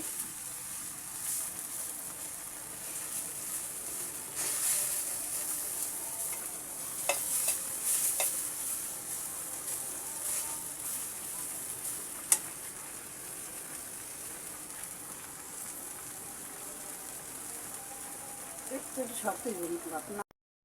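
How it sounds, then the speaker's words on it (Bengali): Jute leaves stir-fried in a pan, with a soft continuous sizzle and repeated scraping stirs close by, a few sharper clinks near the end and no talk. "শাকগুলো আমি বারবার নেড়ে দিচ্ছি একটা পাতার সাথে যেন আর একটা পাতা জড়িয়ে না যায় সুন্দর ঝরঝরে করে আমি ভেজে নিচ্ছি"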